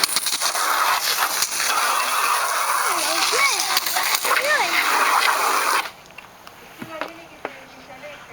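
A water hose sprays a moped during washing, a steady loud hiss of spray for about six seconds before cutting off, followed by quieter handling noises.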